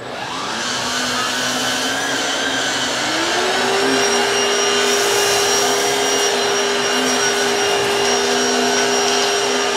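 A Black & Decker PowerSeries 16V cordless stick vacuum runs on a rug with a loud, steady whine. Its pitch climbs slightly a few seconds in, then holds, and no voices are heard over it.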